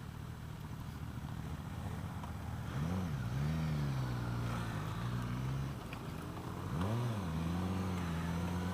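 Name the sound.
2016 Suzuki GSX-S1000 motorcycle engine accelerating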